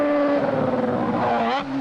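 A Norton rotary racing motorcycle accelerating hard out of a corner: a loud, rising engine whine with clear harmonic tones that sweep upward near the end, partly under a commentator's voice.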